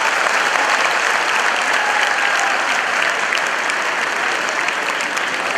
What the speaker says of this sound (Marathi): एवढ्या टाळ्यांचा गजर व्हायला पाहिजे की संपूर्ण सिव्हिल लाईन्स दमदमून जायला पाहिजे